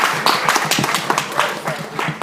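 Audience in a lecture hall clapping for a woman, a short burst of dense, uneven hand claps close by, fairly loud and without speech.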